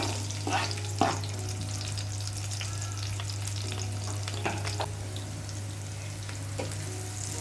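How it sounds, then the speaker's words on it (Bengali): Chopped onion, garlic and green chillies fry in a little oil over low heat, giving a steady sizzle with a few sharp stirring clacks, heard up close and alone against a constant low hum. "পেঁয়াজ রসুন ঝালগুলো বাদামি না হওয়া পর্যন্ত হালকা আঁচে ভাজা ভাজা করে নেবেন"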